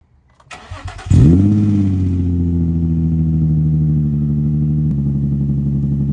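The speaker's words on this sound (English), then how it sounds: "Once everything's back together, I'll give you a startup and see how it runs" A Nissan G35 engine, with freshly installed NGK spark plugs, cranks briefly, catches with a rising roar, then settles into a steady, even idle that continues to the end.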